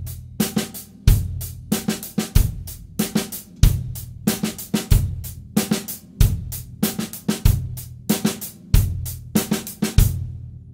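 A drum kit plays a repeating two-part funk pattern, punchy kick and snare hits with hi-hat, close and loud in a steady groove of roughly evenly spaced bars.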